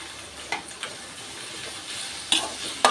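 Garlic, onion and curry leaves sauté for dried vanjaram fish thokku, with a constant close sizzle and occasional sharp scrapes of a spatula against the pan.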